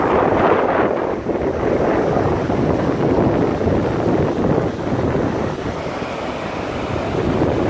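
Waves surging in with a strong current at a Barbados beach during Hurricane Maria, a loud, continuous rush of surf and roaring wind buffeting the microphone, with no voices.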